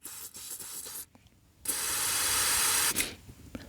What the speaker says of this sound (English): what I like to do is squirt some here into the base of the nozzle to clean it out across its entire length